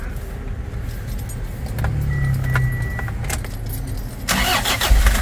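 A car engine being started after new original parts were fitted during repair of a faulty car, with a brief cranking burst and the engine catching near the end, over a steady background rumble and some jangling.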